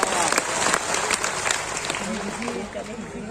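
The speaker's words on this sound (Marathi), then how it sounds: "एकदा जोरात टाळ्या आपण सर्वांनी त्यांचं स्वागत करू" A crowd at a Republic Day gathering at an ashram in Pawaddauna, Mauda, applauds to welcome Devendra Fadnavis, with dense, steady clapping throughout and a voice talking over it.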